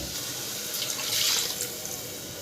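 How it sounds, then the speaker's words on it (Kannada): Water pours steadily into a pot of raw rice for palak rice, giving a close, continuous splashing stream with no voices. "ಇದಕ್ಕೆ ಎರಡು ಬೌಲ್ ನೀರು ಹಾಕೊಳ್ತಾ ಇದ್ದೀನಿ"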